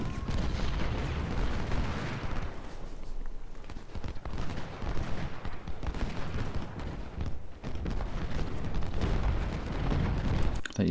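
A Civil War battle in Ultimate General: Civil War at Malvern Hill rumbles on, with constant cannon booms and crackling rifle volleys blending into a thick, unbroken roar.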